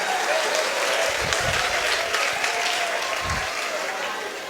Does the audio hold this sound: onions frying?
no